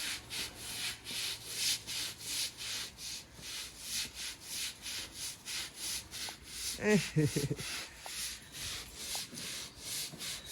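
Stiff scrubbing of rubber wash bay mats in a horse stable, rhythmic back-and-forth strokes close by and fairly soft, with a brief voice partway through.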